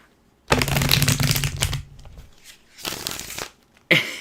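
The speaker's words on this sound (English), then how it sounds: "the universe will have these cards ready in 6 shuffles" A deck of tarot cards is riffled and shuffled up close in two or three crisp bursts, with quiet gaps between them.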